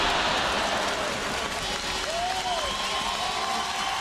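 Stadium crowd at a Canada versus China women's football match applauding and cheering after a near goal, a steady, broad wash of clapping and crowd roar throughout, with a commentator's voice over it.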